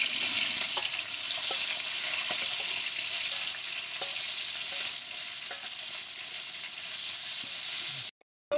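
Freshly caught shol fish frying in hot oil, a steady dense sizzle close by that runs unbroken for several seconds with faint stirring ticks, then cuts off abruptly.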